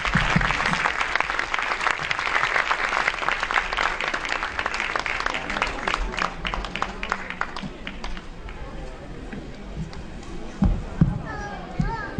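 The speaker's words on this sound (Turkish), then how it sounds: "Kocaman alkışlarla perdemizi açıyoruz." A crowd at a kindergarten end-of-year show claps loudly and steadily as the curtain opens, and the applause fades after about eight seconds as children's voices and speech take over.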